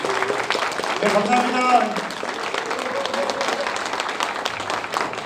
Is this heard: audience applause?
yes